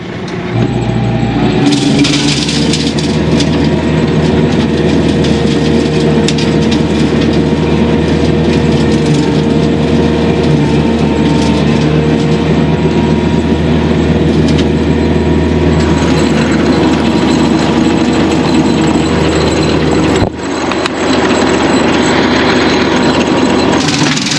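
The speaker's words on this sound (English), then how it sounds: "I'll get turned around here and start mowing." Loud, steady mechanical drone of a tractor pulling a bush hog mower close by in a bottom field in the Missouri Ozarks, with rattling and clanking over a low engine hum, briefly dipping near the end.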